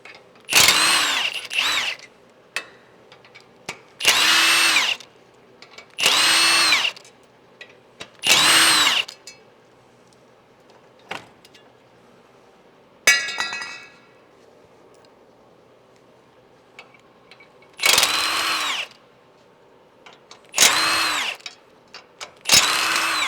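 A power tool, likely an impact driver, removes 14mm bolts from the steel crash bar mounts on a Toyota 4Runner's frame rails, in several loud, close bursts of a second or so separated by quiet gaps and small clinks.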